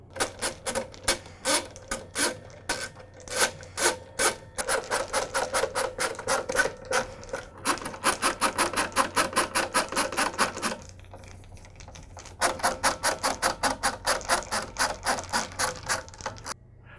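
Screws are driven back in during a switch repair on a DeWalt DW718 miter saw, giving rapid ratcheting clicks in long bursts separated by brief pauses, close and fairly loud.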